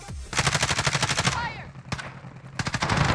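AK-47 gunfire in the video game Warzone, loud rapid automatic bursts: a long rattling volley, a single sharp shot, then another burst, with faint speech between.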